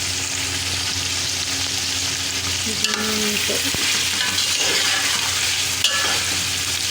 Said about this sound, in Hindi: अब हम गोश्त को अच्छी तरह भून लेंगे